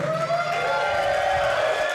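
A crowd at a Steel Domain Wrestling event keeps up a steady roar of cheering and shouting, loud and continuous, with some tonal whistles or horns running through it.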